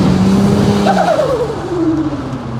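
An AWD Ford Barra-powered sleeper bus pulls away hard in second gear, its engine note loud and close as it climbs steadily in pitch over a couple of seconds, with a faint tyre squeal mixed in.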